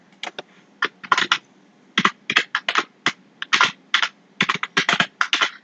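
Fast typing on a computer keyboard while entering HTML code: close, crisp key clicks in quick irregular bursts with brief pauses between them.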